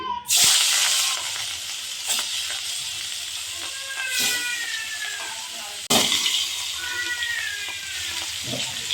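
Fish sizzling in hot oil in a wok, a steady loud hiss and crackle running throughout with two sharper flare-ups as pieces settle, close and continuous.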